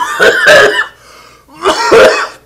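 Two harsh, close coughing fits, each a pair of sharp bursts, separated by a short pause.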